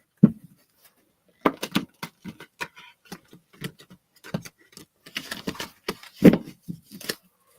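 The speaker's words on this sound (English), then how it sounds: "One more shuffle." A deck of reading cards is shuffled up close in quick bursts of flicking, ticking card snaps, separated by short pauses, on a quiet background.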